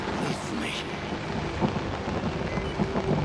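Thunderstorm with steady rain in the horror game Outlast, a dense continuous hiss of rainfall with low rumbling thunder rolling underneath, fairly faint and constant throughout.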